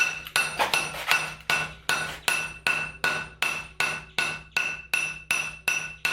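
A hammer strikes a forged machete blade on an anvil about a dozen times in a steady rhythm, each blow ringing with a bright metallic clang that decays before the next, loud and close.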